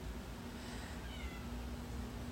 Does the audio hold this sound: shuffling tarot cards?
no